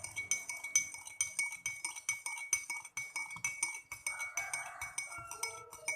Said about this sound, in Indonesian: Dan kita aduk sampai tercampur rata.